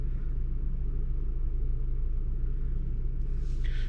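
A delivery driver's car in Canada rolls along the road, giving a steady low rumble of engine and tyres inside the cabin, with a faint higher sound near the end.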